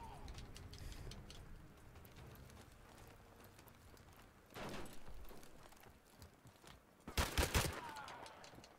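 Gunfire in Call of Duty: Modern Warfare Remastered, scattered crackling shots fairly faint at first, then a louder cluster near the middle and a sharp loud burst toward the end, with no speech.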